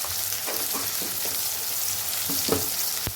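Dried red chilli sizzles in hot oil for a crab masala, a loud, continuous close-up fry with brief spatters and soft stirring scrapes throughout.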